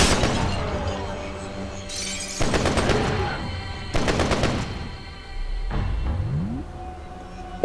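Gunfire in the shooter F.E.A.R.: close, loud bursts of rapid automatic shots in three sharp volleys with shattering, crashing debris, followed by a low rising whoosh, with a voice speaking in between.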